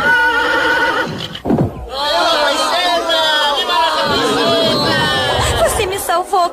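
A horse in an old Thundercats cartoon whinnies loudly in long, wavering neighs, broken by a sharp swoosh, with excited characters' voices and background chatter mixed in.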